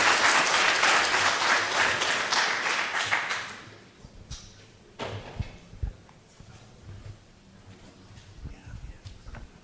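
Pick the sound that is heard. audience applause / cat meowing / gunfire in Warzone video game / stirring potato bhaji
audience applause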